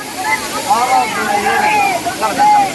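Gandahati waterfall in Gajapati crashes onto the ground beneath a bridge, a dense, steady roaring rush of water, with people's voices and crowd murmur mixed into the noise.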